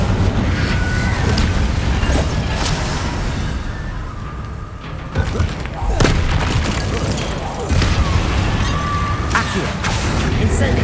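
Spell combat in Hogwarts Legacy, with the Incendio fire spell cast amid repeated booming bursts and crackling impacts, loud and dense over a constant rumble, with a brief lull near the middle.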